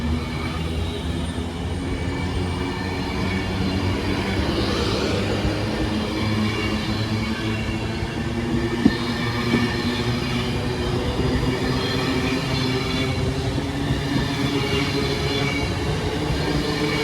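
An Avanti West Coast Class 390 passenger train passes through a station in North Staffordshire, giving a long sustained rumble and rail roar with a faint wheel squeal and a single sharp click midway.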